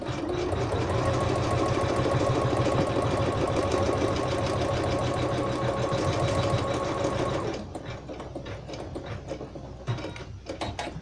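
Embroidery machine stitching an outline for an appliqué arm, a loud steady rapid mechanical chatter running for several seconds, then dropping to a lighter, irregular clicking and tapping as it slows.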